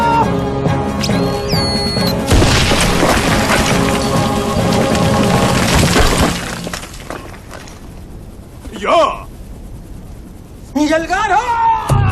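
Gunfire bursts and crashing impacts fill a film battle scene, loud and dense at first, then thinning out, with shouting voices over the chaos.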